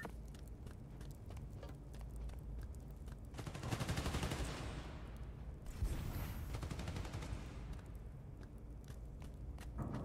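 Bursts of rapid gunfire from Marvel's Spider-Man: Miles Morales, played on PC, rattling continuously at moderate volume, growing denser around the middle before easing off.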